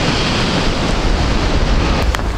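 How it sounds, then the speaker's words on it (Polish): Strong wind buffets the microphone in a loud, continuous roar beside open water, with waves washing underneath. "Strasznie wieje."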